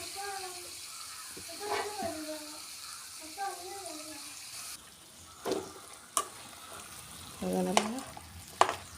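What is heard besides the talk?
stirring mashed tapioca in a frying pan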